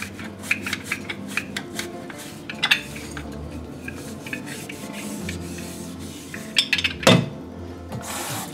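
Household surfaces are scrubbed during a thorough cleaning, with close rubbing and rasping strokes broken by sharp clinks and knocks, including one loud clatter near the end.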